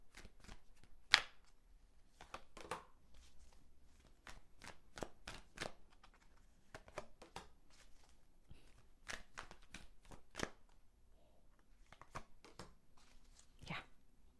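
Tarot guidance cards being shuffled, quiet crisp snaps and riffles in irregular bursts, close and alone.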